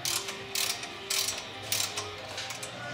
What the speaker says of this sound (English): Get both of those bolts started. Go ahead and tighten them down.